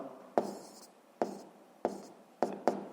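Chalk or pen strokes on a board or paper during a seventh-grade physics lesson: five short, distinct scratching taps spaced about half a second apart, close and fairly quiet, with no talking.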